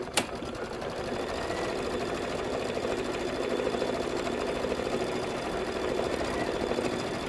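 A sewing machine stitches a quilting sew-along project with a continuous, even mechanical whir after a single sharp click at the start, alone without talk.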